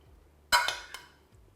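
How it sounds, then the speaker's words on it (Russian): A Boyarskaya casserole being spooned into a baking dish: one sharp clink of a utensil against the dish, followed by two lighter clinks that fade into quiet. "Теперь это вкусное блюдо выкладываю в форму для запекания."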